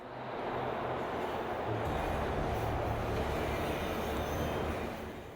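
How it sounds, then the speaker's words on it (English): A train arrives in the Bayonetta video game with a steady, broad rumble and rolling rattle that swells in over the first half second and stays even throughout, with no voices. "By the way, the train has arrived."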